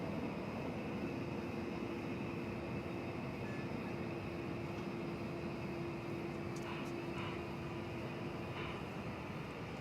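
An MD jet airliner takes off at DFW Airport, a steady, broad engine roar with a sustained whine holding evenly throughout, moderately distant and unbroken, with no voices.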